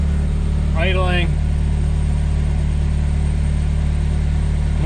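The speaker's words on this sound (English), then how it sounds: "All right, guys, no thermostat in the car. Idling." A Porsche 996 fitted with a K24 engine idles with no thermostat installed, giving a steady low hum close by, while a short chirp-like sound cuts in briefly near the first second.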